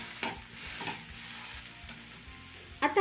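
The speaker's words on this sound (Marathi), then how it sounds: "फक्त खालची बाजू व्यवस्थित रोस्ट होईल भाजलं जाईल तोवर आपण याला शेकून घेऊयात." A mixed veggie uttapam roasts in oil on a tawa with a steady, moderate sizzle, a few soft scraping strokes, and a sharper clatter near the end.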